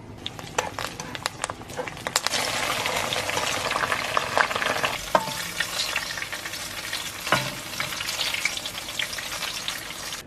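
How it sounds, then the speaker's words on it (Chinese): Scallions, spring onions, coriander and ginger frying in plenty of hot oil with a constant close sizzle and crackle, broken by scattered sharp pops and spatula scrapes. "下入这些食材，炸出香味，大葱、小葱，还有香菜、生姜。"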